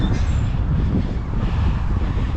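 Wind rushes past the microphone outdoors beside a river in Tampa, Florida, a constant loud low-pitched rumble with slight buffeting and no clear speech.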